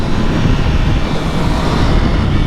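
A 2022 MV Agusta F3 800RR middleweight sportbike engine roars steadily at speed, loud and continuous with rushing wind noise and no voices.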